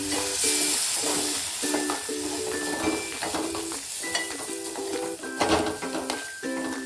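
A milk and water mix hits roasted semolina with dry fruits in a hot pan, giving a loud continuous sizzle and hiss with stirring, while faint tonal music plays underneath.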